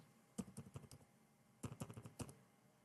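Two quick bursts of typing on a computer keyboard as a card number is entered, crisp close key clicks in a short run, a pause, then another run, with no talking.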